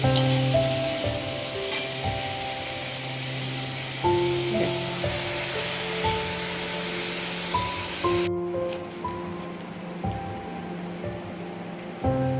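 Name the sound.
frying cut potatoes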